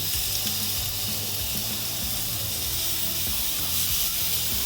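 A steak in a Jack Daniels and Coca-Cola marinade sizzles steadily on a grill, with a dense, continuous hiss and crackle held close and loud without a break.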